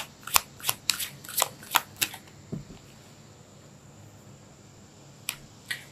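Tarot cards shuffled by hand in a series of crisp riffling bursts, about eight quick ones close up, then a lull before a couple of lighter flicks as a card is drawn.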